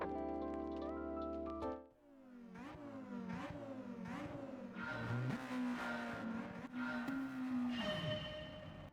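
Abarth race car launching from a standing start in the video game Gran Turismo 7: loud engine revs climbing repeatedly through quick gear changes over several seconds, with tire noise and no talking.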